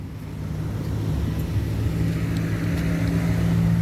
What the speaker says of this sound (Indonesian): Nah ini banyak kendaraan yang ingin masuk ya teman-teman, yang mau coba test drive